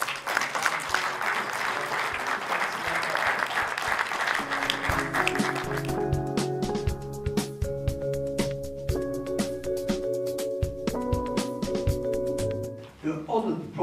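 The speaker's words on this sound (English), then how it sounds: "I would really like you to give President El Sol a great big round of applause." Applause from a congress audience honoring a president at the 10th World Congress of Consuls in Monaco, a dense clapping wash that gives way to a sustained musical tune with steady tones, loud and close throughout.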